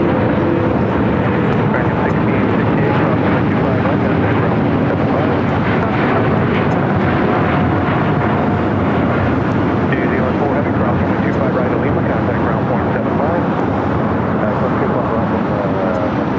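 An Airbus A350-900 airliner bound for Atlanta rumbles at LAX with loud, sustained engine noise that holds steady throughout, and voices talk over the roar.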